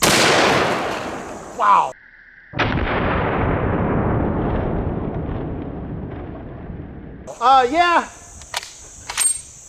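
An elephant rifle fires at a 4-inch cinder block outdoors: two heavy, booming shots with long rolling echoes, followed by short reactions from people nearby.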